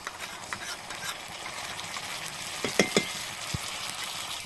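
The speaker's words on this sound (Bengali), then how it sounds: "এবার এর উপর দিয়ে দেবো বেটে রাখা পোস্ত আর কাঁচা লঙ্কা" Ground poppy seed paste and green chillies fry with browned onions in a pan, giving a steady crackling sizzle with scraping stirs and a few sharper clinks near the end.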